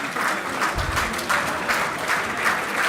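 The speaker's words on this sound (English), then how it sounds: "We receive your love and appreciation only in the form of these applause." Sustained audience applause at a Toycathon certificate ceremony, a dense steady wash of many hands clapping throughout, moderately loud with no break.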